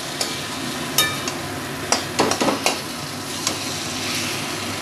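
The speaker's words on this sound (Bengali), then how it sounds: "ভেজে নিচ্ছি।" Pumpkin bori fried with a sprinkle of sugar in a pan, a steady close sizzle with a cluster of sharp spatula scrapes and taps against the metal.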